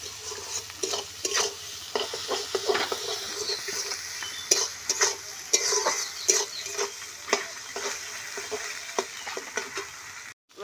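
Raw jackfruit and chicken skin frying in a pan, with steady sizzling and repeated scraping stirs of a spoon against the metal, close and fairly loud, no voices.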